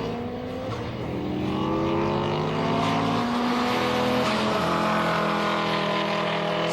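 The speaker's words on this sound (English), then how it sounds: "And now it's time for a little bit of drag racing, ladies and gentlemen." Dodge Viper and Subaru launching side by side in a drag race at the strip, a loud sustained roar of engines with rising harmonic sweeps as both cars accelerate hard through the gears.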